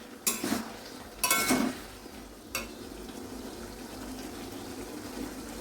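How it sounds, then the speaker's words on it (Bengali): Cauliflower florets tossed and turned in a pan for gobi chilli, giving a few short clattering scrapes and stirring bursts over a low steady background, near and moderately loud, with no talking. "এবারে কপিগুলো দিয়ে দিলাম। দিয়ে একটু উল্টিয়ে পাল্টিয়ে"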